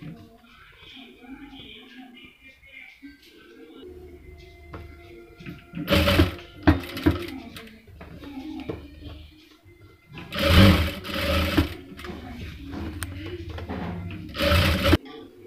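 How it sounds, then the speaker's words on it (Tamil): A sewing machine stitches blouse fabric and lining together in short whirring bursts, with someone speaking quietly throughout. "நம்ம லைனிங் துணியும் ப்ளவுஸ் துணியும் வச்சுட்டு அதுக்கு ஆப்போசிட்டாக அந்த டிசைனை நம்ம வச்சு தைக்கிறோம்"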